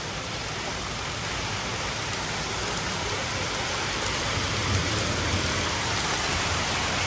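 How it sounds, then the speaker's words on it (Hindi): Heavy rain with hail pours down outdoors in Dehradun, a dense, steady roar of downpour close by that holds at constant loudness throughout, with no voices. "बहुत तेज बारिश आ रही है भाई"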